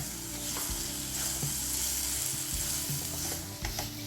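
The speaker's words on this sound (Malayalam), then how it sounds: "ഇതുപോലെ നന്നായിട്ട് ഉടച്ചുടച്ച് മിക്സ് ചെയ്യാം." Ripe Nendran banana being mashed and stirred together with semolina, raisins, cashews and a pinch of salt in a Kerala kitchen, with steady squelching, scraping and clicking utensil sounds close up and no voices.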